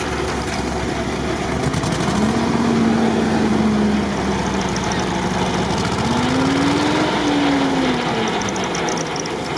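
The rear-mounted engine of an amphibious off-road vehicle with military-style tracks runs at a steady, loud, close drone. Its pitch rises and falls a little as it revs, and faint voices can be heard in the background.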